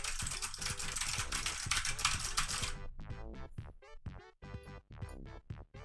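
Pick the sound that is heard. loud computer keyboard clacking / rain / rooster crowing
loud computer keyboard clacking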